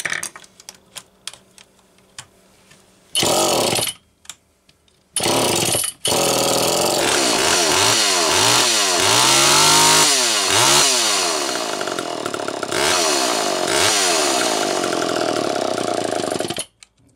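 Homelite Super EZ chainsaw with a Walbro HDC-44 carburetor, close and loud: sputtering start attempts with gaps, then the engine catches and runs, revving up and down in repeated surges before dying at the end.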